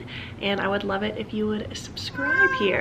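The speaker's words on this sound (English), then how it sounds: "That's my cat howling because she is just going wild right now." A pet cat howls and meows in drawn-out, wavering cries, close and fairly loud, mostly under and after someone speaking indoors.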